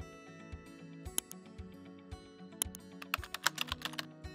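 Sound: typing an indicator name on a computer keyboard

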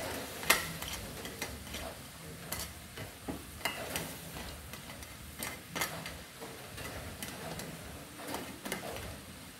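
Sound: crab simmering in a pan on the stove

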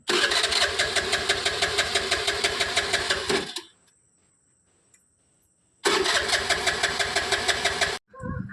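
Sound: engine failing to start

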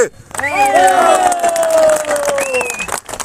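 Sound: crowd cheering and applauding

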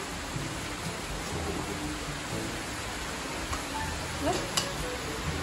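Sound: heavy rain

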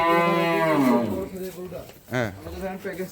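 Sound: sacrificial bull cattle at livestock market

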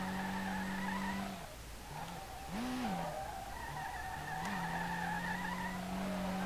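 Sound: car drifting with tire skid in SLRR video game

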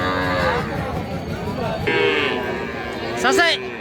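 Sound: calves mooing at cattle market

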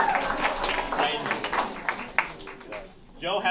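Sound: audience applause for the performers

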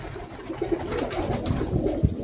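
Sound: Punjabi Malwai pigeon cooing

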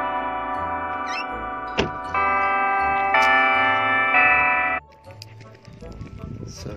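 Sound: electronic church bells ringing

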